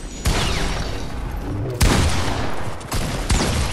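Heavy shotgun blasts in Fortnite come as several loud booming shots at irregular intervals, each with a sharp crack and a rumbling tail, over a dense, noisy game soundscape.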